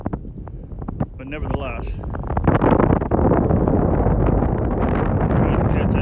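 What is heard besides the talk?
wind blowing while boats fish for walleye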